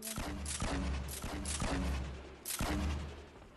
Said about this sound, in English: Do you want to throw grenade launcher in there?